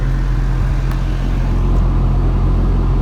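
Low, steady droning rumble from an idling Ford Focus with a Duratec engine and worn engine mounts, a constant loud vibration inside the car with a tractor-like hum and no talk.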